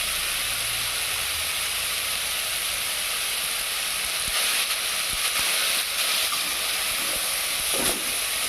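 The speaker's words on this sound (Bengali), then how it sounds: "আলুটা একটু ভেজে নিচ্ছি" Salted potatoes frying in oil in a pan make a loud, steady hiss, with a few scattered clicks of stirring toward the end and no speech.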